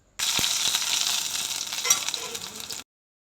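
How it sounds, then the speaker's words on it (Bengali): Stuffed spiny gourd (kakrol) chops fry slowly in a pan, giving a steady close sizzle with a few small pops and crackles. The sizzle stops abruptly after under three seconds. "ভালো করে আস্তে আস্তে ভাজা হবে"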